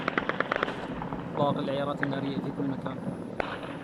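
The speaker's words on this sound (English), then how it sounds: "Look at all that gunfire that's going around." Rapid bursts of distant gunfire crackle in Syria at the start, followed by shouting voices with more scattered shots and a final sharp pop.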